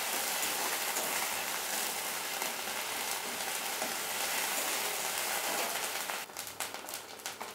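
Ginger garlic paste frying in a pan for a rohu fish curry, a dense continuous hiss and sizzle close by, with a few sharper scraping stirs near the end.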